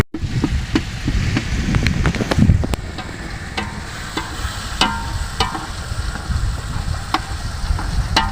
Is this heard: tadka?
yes